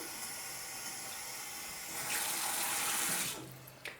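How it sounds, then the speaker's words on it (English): Tap water running into a sink, a quiet background trickle that swells into a stronger, louder flow for over a second before stopping, with a small clink at the end. "Just put some water in the sink."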